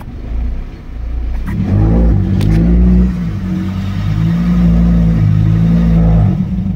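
A 2009 car engine with a suspected catalytic converter fault revs under full throttle, a loud, steady, strained drone that climbs but never rises freely, rumbling close by and alone for several seconds.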